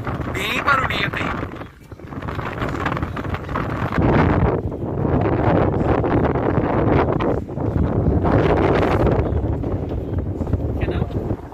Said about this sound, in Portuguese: Talvez aí tá um vento bem barulhinho